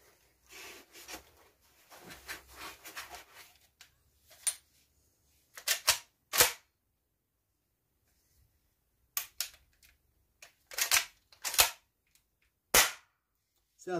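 A spring pump-action airsoft shotgun is handled and pumped, giving sharp, close mechanical clacks in quick pairs and clusters separated by silence, after some quieter rustling handling noise at the start.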